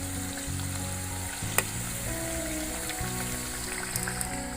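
Sweet mathri frying in hot oil over a low flame, a steady close sizzle with soft bubbling as the pieces are turned, plus one sharp clink of a utensil partway through.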